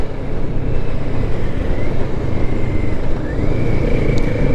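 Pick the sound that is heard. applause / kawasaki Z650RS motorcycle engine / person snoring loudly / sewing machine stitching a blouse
kawasaki Z650RS motorcycle engine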